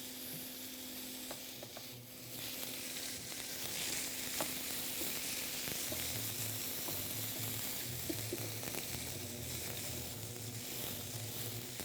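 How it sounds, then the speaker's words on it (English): Meat sizzles and browns in a very hot pan, a steady close crackling hiss that runs throughout, with occasional stirring clinks and a low background hum and no talking. "So you can hear as soon as I put it in, it'll start to sizzle."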